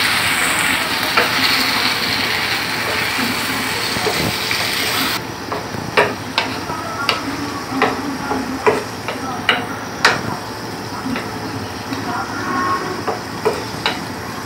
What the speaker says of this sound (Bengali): একটু পানি দিয়ে আবার মশলাটা একটু কষিয়ে নিব